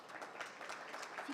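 Audience applause at a 2018 trade fair stage session, a steady wash of clapping from a crowd for a guest being welcomed, continuous and moderately loud through the short span.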